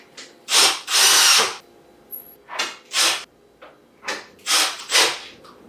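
A power multi-tool drives nuts tight on a Star Cat wheel in a series of loud, close whirring bursts: two long runs, then four shorter pulses separated by brief pauses.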